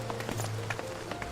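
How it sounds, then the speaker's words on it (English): Starter shoes in Final Fantasy XIV clack loudly as a character runs, quick irregular footfalls sounding over a steady game background hum. "The shoes are extremely loud."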